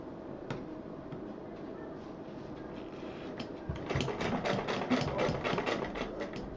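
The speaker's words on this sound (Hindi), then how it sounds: "करीब 2 बार सिल दें" A sewing machine stitching a homemade purse, starting with scattered clicks and soft mechanical noise, then running in a steady fast rattling burst of stitches, close and fairly quiet.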